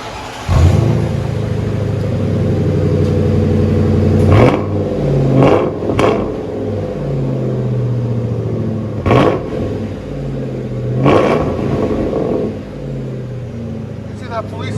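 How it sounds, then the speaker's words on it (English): A 2004 Ford Crown Victoria Police Interceptor 4.6L V8 with both mufflers removed and 4-inch stainless tips revs repeatedly in sharp bursts over a loud, steady idle rumble, with people talking around it. "You see that police interceptor motor sounds different."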